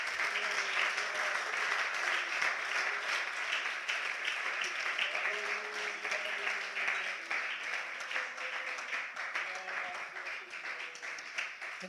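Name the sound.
church congregation applause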